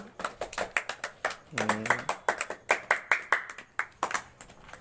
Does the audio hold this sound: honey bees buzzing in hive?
no